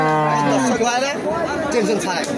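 A Holstein dairy cow at a rural cattle market lets out one long, loud moo close by, with crowd chatter around it.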